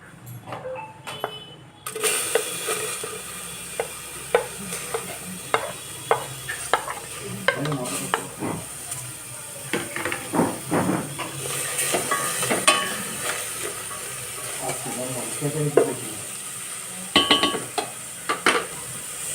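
Raw onion dry-frying without oil in an Amway Queen pan, a steady soft sizzle broken by repeated close scraping and stirring clicks of a utensil against the pan, with no voices.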